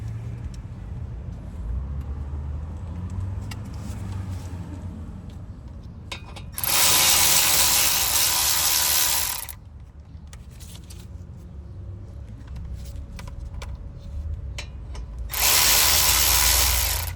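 A tool works on the front brake caliper of a 2012–2019 Volkswagen Passat: low mechanical clicking and rattling, then two loud, broad whirring bursts of about three seconds and two seconds, close up with no talk.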